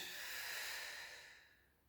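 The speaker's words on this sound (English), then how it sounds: "Breath in and out." A single long exhaled breath during a floor exercise toward a full bow pose, an airy hiss close to the microphone that fades away, with no talking.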